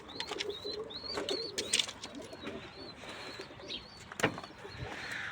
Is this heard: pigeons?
yes